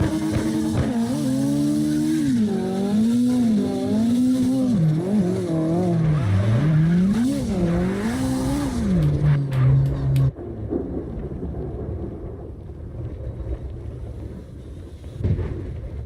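Cars tandem drifting in CarX Drift Racing Online, engines wailing and rising and falling in pitch with tire squeal, then cutting off abruptly to a quieter rumble and scattered noises.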